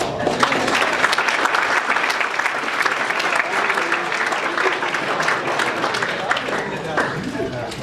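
A banquet audience at a university athletic hall of fame dinner breaks into sustained applause, a dense, even roar of many hands with murmured voices mixed in.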